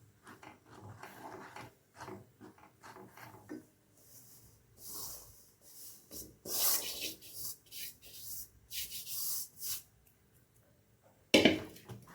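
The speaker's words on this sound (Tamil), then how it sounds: "இப்போ அரிசி மாவு கொட்டி நல்லா கிண்டி விட்டுக்கலாங்க" Rice flour being stirred into hot jaggery syrup for adhirasam, heard as close, uneven scraping and rubbing strokes of a spoon through the thickening dough in a pan, with bursts of louder friction and no speech.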